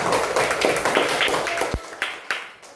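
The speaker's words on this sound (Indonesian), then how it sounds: "tepuk tangan untuk kelompok 1" Classmates clap for the first student group after its classroom discussion presentation: a burst of dense, fairly close hand claps that thins out into a few scattered, separate claps before stopping.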